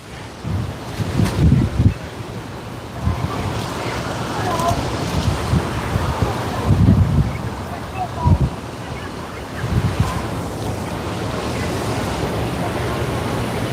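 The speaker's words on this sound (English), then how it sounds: "Let me make a little adjustment here for the wind." Gusty wind buffets a microphone outdoors near the ocean on a walk from Waikiki toward Diamond Head, sending loud low rumbling bursts over a constant surf-like hiss for about fourteen seconds.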